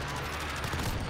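Rapid machine gun fire in Call of Duty Modern Warfare, a loud, steady burst of closely spaced shots lasting about a second.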